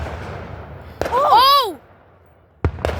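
Dover Fourth of July fireworks go off outdoors: a sharp bang, then two more abrupt booms later, as someone shouts in excitement between the bursts.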